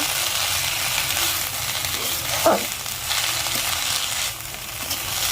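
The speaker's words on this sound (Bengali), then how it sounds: "এখন শুধু ধনে পাতাটা ভাজবো" Coriander leaves fry in a pan with onion and garlic, giving a continuous loud, dense sizzle throughout with a brief stir or scrape partway in; no talking.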